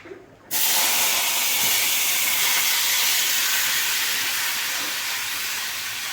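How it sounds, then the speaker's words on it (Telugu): Tomato dropped into hot oil bursts into a sudden loud sizzle after a brief quiet moment, then a steady close hiss that slowly eases off. "ఇప్పుడు ఇందులోనే మనం టమాటా అనేది యాడ్ చేసుకున్నాం"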